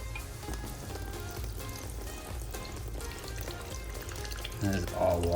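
Water pours and splashes steadily out of an old sketchy go-kart engine as it is drained, a continuous trickling gush that grows louder near the end.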